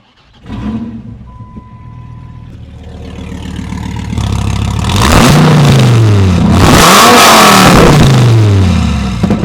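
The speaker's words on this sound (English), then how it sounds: "let's go ahead and fire up and hear this puppy roar" A 2008 Dodge Viper's engine fires up and revs, the roar swelling through several loud rising and falling throttle blips, close by and alone.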